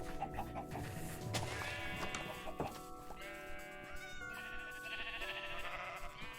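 Minecraft sheep give a run of wavering, nasal bleats, several calls in close succession standing out clearly over constant game ambience, with no talking.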